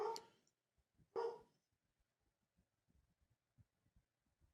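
A dog gives two loud, close barks, the second a deep 'big woof' about a second after the first, followed by faint scattered rustles and small taps.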